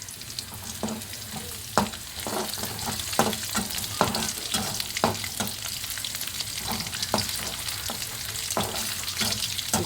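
Shallots frying in ghee for payasam, a steady close sizzle broken by regular scraping stirs of a spoon in the pan, moderately loud with no talking.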